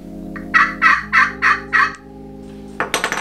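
A Purple Heart turkey call is worked to imitate a gobble, with five quick loud rattling yelps in a row, then a short pause and another burst of clucks close to the listener.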